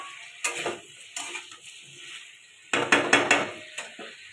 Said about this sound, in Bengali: ঢাকাটা খুলে দেখে নেবো এবার, আর একটু কষে দেবো।